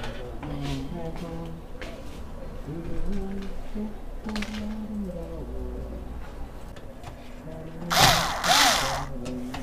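A power drill drives screws into wood during furniture assembly, with a short whirring burst near the end. Voices talk in Korean through most of the clip, and birdlike cooing sits in the background.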